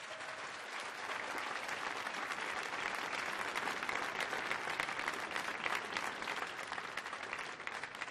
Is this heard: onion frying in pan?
no